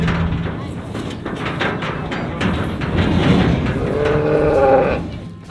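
A cow in a muddy field after days of rain gives a long, loud, drawn-out moo near the end, over rustling and movement close by.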